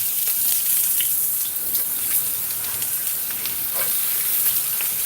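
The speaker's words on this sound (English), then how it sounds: "We're gonna saute off quickly. I want this to be hot." Yakiniku chicken and vegetables sauté in a very hot pan, giving a loud, continuous hiss and crackle with scattered pops and sputters throughout.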